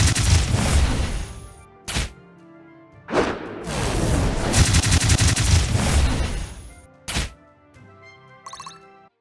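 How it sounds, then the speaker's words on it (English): Mystic Barrage spell effect from the game Dark Deity: a dense volley of loud rapid impacts and bursts, broken by short gaps and sharp single thuds, with a faint chiming tail at the end. "I'll do Mystic Barrage"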